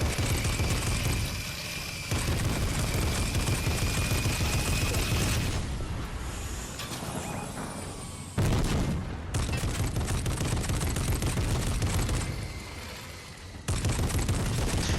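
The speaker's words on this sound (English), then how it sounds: "I was just shooting up there on purpose just in case there's people up there." Repeated bursts of rapid gunfire in the video game Fortnite, loud and close, coming in long sustained volleys broken by brief gaps, with no voices over them.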